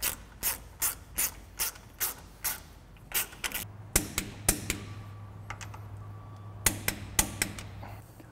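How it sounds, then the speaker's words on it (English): A ratchet tightens washers and nuts on a Mustang II car spindle, with a close series of sharp regular clicks, a brief pause, then more spaced clicks over a low mechanical hum. "We're just gonna go ahead and put the washers nuts on. All right, go ahead and tighten all that stuff up."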